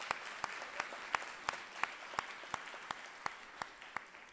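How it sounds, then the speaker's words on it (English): Sparse, evenly spaced claps ring out at an MC-led event in a live-streamed ceremony, a thin and distant round of applause from a small audience with no voices over it. "Can we give them a round of applause?"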